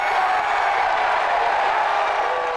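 A Mississippi Trump rally crowd roars in a sustained, dense wall of cheering and shouting, loud and steady with no pauses.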